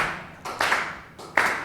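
Two slow, spaced handclaps, each a sharp smack followed by a brief pause, close by.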